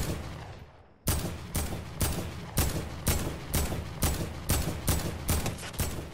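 Video game gunfire, a steady burst of about eleven sharp, loud shots at an even rhythm that starts abruptly after a quiet second, with no talk over it.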